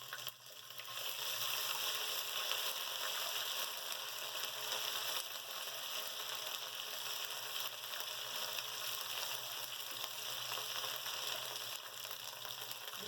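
Two spoons of ginger garlic paste sizzle in hot oil for an egg and chickpea cholay curry, a steady, even frying hiss that runs unbroken and fairly quiet throughout, with no voices.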